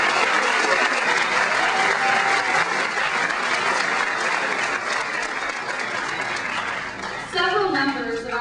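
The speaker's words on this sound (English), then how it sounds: "Let's give them a warm Craig Cougars round of applause." Loud, sustained applause fills a school gym during an honor wall ceremony, crowd clapping steadily for several seconds before tapering off as a voice begins speaking over it near the end.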